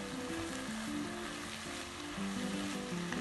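Beef chilli seasoned with chopped chili and chili powder sizzles in a pan, a steady close-up fry with a faint tonal melody running underneath, no voices.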